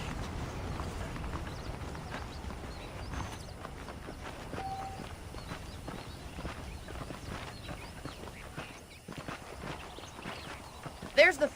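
Horse hooves clip-clop steadily at a walking pace in the Red Dead Redemption video game, heard close under ongoing talk and game ambience.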